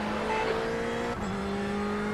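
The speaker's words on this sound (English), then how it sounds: "there's a faster car approaching. Let him go by." A race car in a sim racing game sweeps past at a steady engine drone, its tone dipping slightly as it goes by midway, with continuous loud engine hum throughout and no talk.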